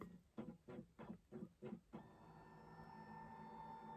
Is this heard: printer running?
yes